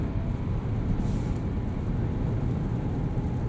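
From inside the cab of a 2022 Nissan Frontier SV 4WD crew cab in tow haul mode, the drivetrain gives a steady, heavy, low rumble while engine braking. There is no talking.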